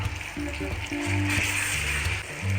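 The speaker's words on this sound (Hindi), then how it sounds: "इसको हम 1 मिनट के लिए सौते कर लेंगे ऑयल में" Ginger garlic paste sizzles in hot oil with cardamom, a steady close frying hiss with a low hum underneath, short and continuous with no talking.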